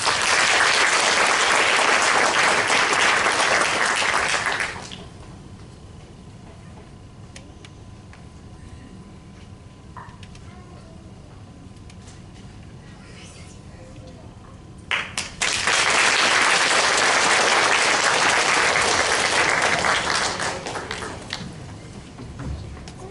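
An audience at a school honor society induction ceremony applauds loudly for performers, a dense burst of clapping for about five seconds, then a quiet gap with faint ticks, then a second long round of applause that fades out.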